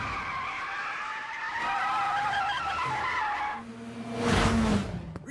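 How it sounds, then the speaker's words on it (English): An anime FC race car tears down a mountain pass, its high engine whine giving way to a sharp tire squeal and skid, loud and close, with the engine note dropping as the car slides through the bend. "Ryosuke's FC is kicking down the pass. It's like a damn jet engine."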